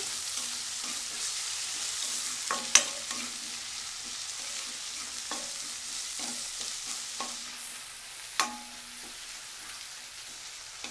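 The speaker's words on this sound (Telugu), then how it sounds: "కొంచెం వేగాలి, అంటే ఆ పచ్చివాసన పోయేదాకా వేగాలి." Masala for khadi dal curry fries in hot oil with a steady sizzle, while a spoon stirs and scrapes the pan in occasional sharp clinks and taps, heard close and alone with no talking.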